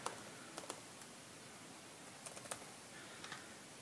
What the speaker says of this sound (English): We can hit the Windows key and type installer.